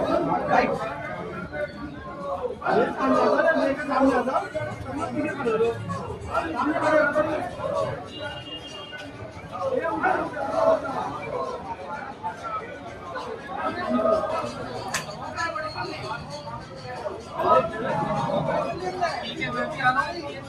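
A crowd at a sit-in protest outside Modinagar tehsil keeps up steady, close chatter and overlapping voices throughout.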